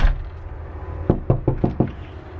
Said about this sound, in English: you have to knock